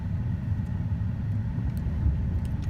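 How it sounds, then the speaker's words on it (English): A car engine rumbles low and close with a steady churning roar, briefly rising as the tires spin, no one talking over it. "I spun the tires."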